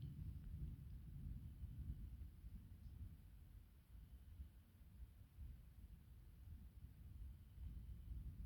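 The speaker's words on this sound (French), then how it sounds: "Il est survolté cet orage." Thunder from an intensely electric supercell storm rolls as a low, continuous rumble at a distance, steady and faint with gusty background noise, with no voices.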